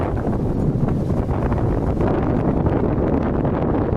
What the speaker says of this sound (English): When you get in these canyons, man, that wind doubles.